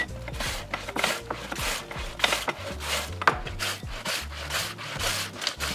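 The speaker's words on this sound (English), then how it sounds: "I like to do this on a mandolin to get it super, super thin" Cabbage shaved super thin on a mandolin slicer, with steady rhythmic rasping strokes repeating about twice a second, close and fairly loud, each pass a scraping swish over the blade with no talking.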